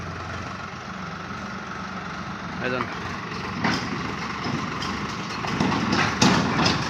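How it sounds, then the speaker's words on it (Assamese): A tractor engine runs nearby with a low steady idling rumble, a few knocks and rises in revving, while someone talks over it throughout. "চাওক গাড়ী ট্ৰেক্টৰ চলাই আছে"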